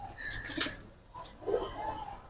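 Pigeons at a pigeon market, including Giribaz and colored breeds, give soft, low coos in a short burst, close and moderately loud over faint background chatter.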